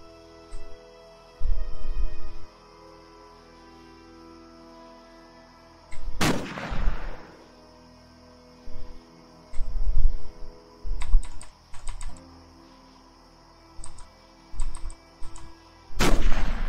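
Rifle gunshots from the video game Cataclysm DDA: two loud, sharp, isolated reports spaced about ten seconds apart, with faint keyboard typing and clicking scattered in between.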